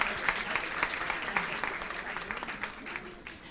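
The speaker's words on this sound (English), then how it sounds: "Let's give a round of applause again to all our panelists and our moderator." Conference attendees applaud the panelists and moderator at the close of a session on digital opportunities for creative industries: fairly faint, patchy clapping that thins out toward the end, with some voices underneath.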